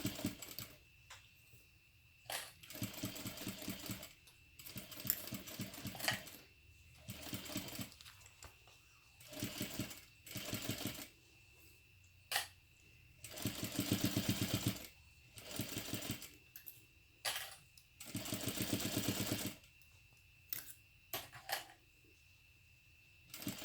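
A sewing machine stitches a crossbody bag in repeated bursts of fast mechanical whirring and clicking, separated by short pauses, close and quiet with no talk.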